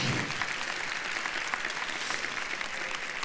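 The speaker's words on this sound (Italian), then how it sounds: "Questo applauso più sommesso, un po' da piano bar" Subdued applause from the audience at a speech, a soft, even patter of many hands clapping continuously at a modest level with no voices over it.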